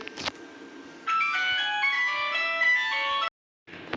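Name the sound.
phone ringtone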